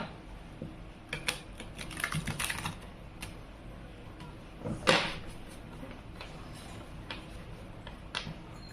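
Tarot cards being shuffled by hand in short irregular bursts of crisp riffling and tapping, with a few sharper snaps standing out, close up and without speech.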